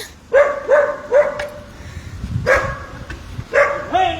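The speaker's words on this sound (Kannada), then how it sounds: "ಡಾಗ್ಸ್ ಏನೇ ಅಟ್ಯಾಕ್ ಮಾಡ್ತಿದ್ರು" Dogs barking repeatedly at a street scene where a woman was being harassed, loud close barks in quick bursts with short gaps and a whimpering yip near the end.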